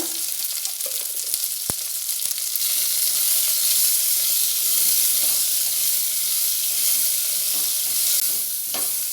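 Onions sauté in a pan for hotel-style sambar, with a steady, close frying sizzle and hiss throughout, broken by a few sharp stirring clicks and spoon taps against the pan.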